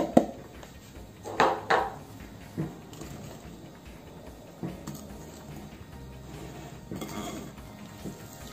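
Brownie batter being mixed in a bowl with cocoa powder and wheat flour, giving scattered clinks and scrapes of a utensil against the dish, with a few louder knocks early and quieter stirring after.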